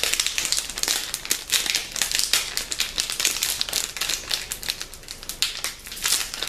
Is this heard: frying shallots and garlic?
no